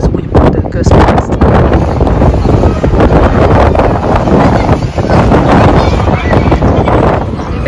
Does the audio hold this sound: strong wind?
yes